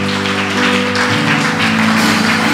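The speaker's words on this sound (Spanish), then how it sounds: "Alguien tiene que aplaudir." A church congregation claps during a healing service, broad sustained applause over a droning organ-like sustained tone, loud and steady throughout.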